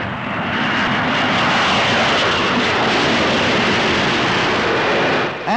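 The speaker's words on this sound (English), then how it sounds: "8 Red Arrows follow squadron leader Dickie Duckett's lead plane." A formation of Red Arrows jets flies behind the squadron leader's lead plane, giving a loud continuous engine roar that fills the whole clip before briefly dipping at the end.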